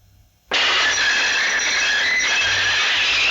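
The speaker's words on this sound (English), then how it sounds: "Nairi's driver applied the brakes," A train's brakes are applied: after a brief hush, a harsh, loud squealing hiss with a whining edge starts abruptly and holds steady without a break.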